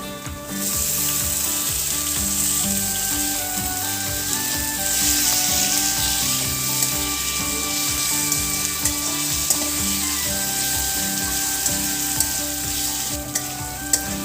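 Chopped onion and tomatoes frying in a pan for a methi dish, a loud continuous sizzle with scraping stirs and a few clicks over background music.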